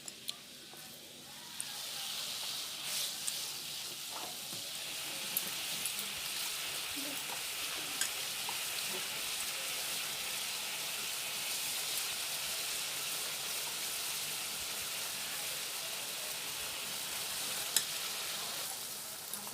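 Chitol fish dumplings (muitha) boil in a pot of hot water, giving a steady, dense bubbling hiss that holds evenly throughout with a few faint clinks.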